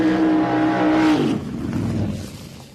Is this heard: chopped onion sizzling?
no